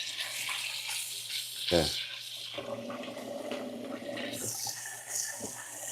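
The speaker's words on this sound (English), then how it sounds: "I'm gonna rinse out my cutting board and put this thing back on it." A cutting board is rinsed under a running kitchen tap while lobster with scallion and ginger is being cooked, making a steady watery hiss over a low hum, with one brief spoken word.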